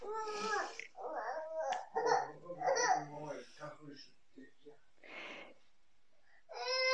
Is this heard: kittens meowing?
no